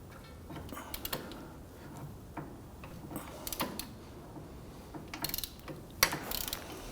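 A socket ratchet breaks free and loosens the upper caliper bracket bolt on a 2005-2010 Chrysler 300, giving close clicking ratchet strokes in short irregular bursts with a louder snap near the end, no voices.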